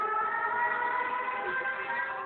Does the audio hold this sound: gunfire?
no